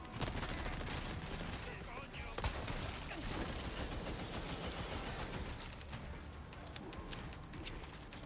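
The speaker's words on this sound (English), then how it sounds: "What the fuck is shooting at me?" Video game gunfire directed at the player: a constant stream of rapid, crackling shots and bursts, like a fusillade, running throughout at moderate loudness over a dense background.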